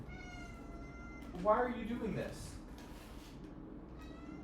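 A pet cat meows a few times, high and drawn out, close by in an indoor room while a person talks over it.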